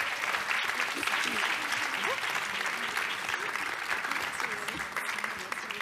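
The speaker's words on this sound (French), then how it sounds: "je pense qu'on peut les applaudir" Audience applause for award-winning authors at a French book event about seniors and ageing, steady dense clapping throughout, moderately loud and fairly close.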